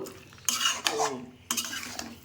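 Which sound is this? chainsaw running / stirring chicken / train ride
stirring chicken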